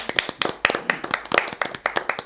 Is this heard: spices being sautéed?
no